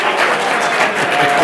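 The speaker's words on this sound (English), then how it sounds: "Everybody give him a round of applause." An audience at a startup talk gives a speaker a round of applause, a dense, loud, continuous wash of clapping from many hands.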